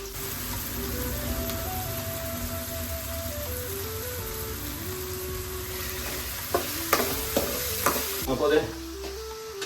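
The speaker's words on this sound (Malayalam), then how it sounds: "തക്കാളിയും ഉള്ളിയും വെളുത്തുള്ളിയും ഇഞ്ചിയും കൂടി ഒന്ന് മുരിഞ്ഞു വരുന്നതിനുള്ളിൽ" Tomato, onion, garlic and ginger sizzle and fry steadily in a pan for chickpea curry, a continuous close hiss with a few sharp clinks of stirring toward the end.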